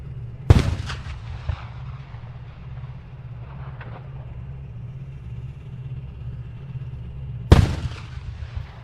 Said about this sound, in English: that sounds like almost like a main gun round